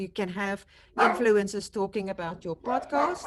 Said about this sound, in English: I'm sorry for my dogs barking in the back